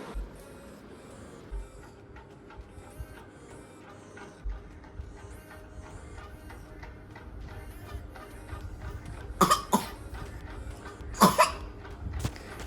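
A small child with a cold from chilly weather gives two sharp, close coughs a couple of seconds apart, against a quiet indoor background with faint ticking.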